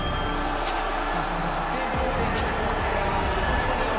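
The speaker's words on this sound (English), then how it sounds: "you hear the pop from the crowd" A virtual arena crowd in the UFC 4 fighting game roars in a sustained, distant wash of cheering beneath continuous commentary from broadcasters.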